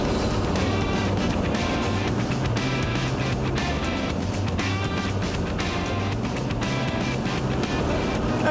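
An 8-ton racing truck thunders at full throttle around an oval track in Cornwall, a dense, continuous engine roar close up and loud throughout, with no talk.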